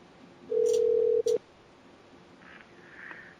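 Telephone dialing tones: a steady phone tone sounds for under a second, then a short second beep; faint electronic tones follow quietly on the line.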